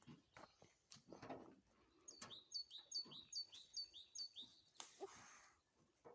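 Birds chirping in a quick repeated series of high, bright calls, moderately close, over soft rustling and scattered background noises during a rose harvest in Kılıç village, Isparta.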